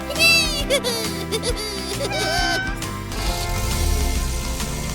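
A cat meows several times in quick, high, wavering cries near the start, with a cartoonish music bed continuing underneath.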